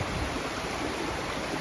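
Stream water rushes steadily at a river crossing, a dense, even wash of flow close by with no talking and no pauses.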